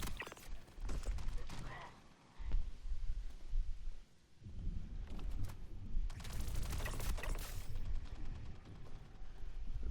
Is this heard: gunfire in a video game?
yes